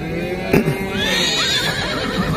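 Horses in Pokrovka give a loud, close whinny, a rising then wavering neigh lasting about a second, over faint shuffling and a brief knock, with no talk.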